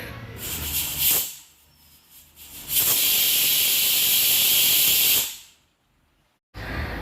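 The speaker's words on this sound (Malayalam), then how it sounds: "നാല് വിസിൽ കഴിഞ്ഞതിന് ശേഷം ഇതിൻ്റെ ആവിയൊക്കെ ഒന്ന് നന്നായിട്ട് പുറത്ത് പോയിട്ടുണ്ട്" A pressure cooker with green peas inside vents steam after four whistles. A short hiss comes first, then a long, loud, steady jet of steam that cuts off to near silence, and another burst starts at the end.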